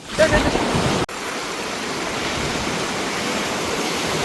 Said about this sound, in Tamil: ஓ கடல் தண்ணி எல்லாம் போடுது